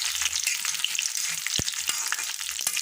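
Dried red chillies frying in hot oil make a bright, steady crackling sizzle, close up, with a few sharp pops and knocks from stirring.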